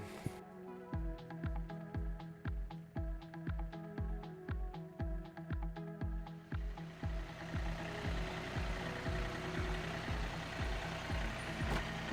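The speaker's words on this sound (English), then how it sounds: "Now I'm gonna fire up the tractor" A large tractor diesel engine chugs with a steady rhythmic knock, idling loudly close by, then its pitch and roar rise as it revs up.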